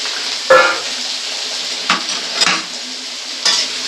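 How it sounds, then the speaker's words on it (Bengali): Three chopped onions fry in hot oil for a spicy cauliflower curry, a steady soft sizzle broken by several sharp spoon scrapes and clinks against the pan. "পেঁয়াজটা আমি তেলের ওপরে দিয়ে দিলাম"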